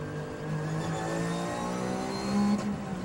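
Land Motorsport Porsche race car at the 2006 Nürburgring 24 Hours, its engine note held steady and close, swelling slightly near the end as it runs past.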